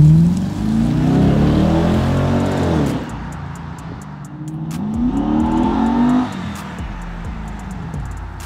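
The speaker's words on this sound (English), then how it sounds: "I'm gonna give y'all a little acceleration pull real quick, just so y'all can hear the exhaust open up just a little bit" A 2008 Pontiac G8 GT with a 6.0L V8 revs up in two strong acceleration pulls, the exhaust note rising loud and deep each time before dropping back, heard close with no talking.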